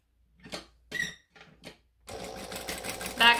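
A sewing machine back stitching a bag with a drop-in lining: after a few short clicks and taps, the machine starts into a steady close whirring run that speeds up toward the end.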